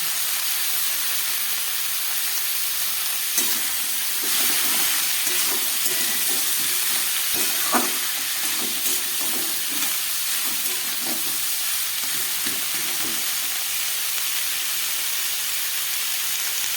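Winter greens and vegetables sauté in a hot pan with a steady, even sizzle, punctuated by scattered soft stirring scrapes and clicks, close and without any talk.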